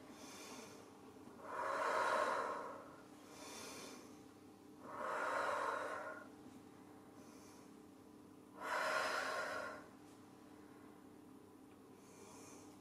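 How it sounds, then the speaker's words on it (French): Slow, deep breaths during a guided exercise session, three long hissing exhalations spaced several seconds apart, close and fairly quiet, with no talking. "Pense à sa respiration."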